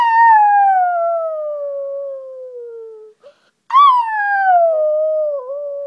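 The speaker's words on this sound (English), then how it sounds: "Why is that dog not howling? I think they all are." Dogs howl on a moonlit night, two long loud descending howls, the second starting after a brief pause, close and clear with no talking.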